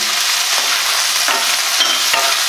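Chopped green chili, capsicum and onion sauté in a pan for Schezwan prawn, a steady close sizzle with a few soft scrapes of stirring throughout and no talking.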